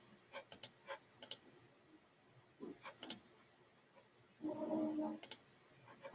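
Scattered light keystrokes on a computer keyboard, a few single taps and small clusters at an uneven pace, quiet and close, with a brief muffled rustle near the end and no talking.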